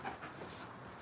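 A dog pants steadily while waiting for treats, with a faint whimper, close by and continuous for about a second.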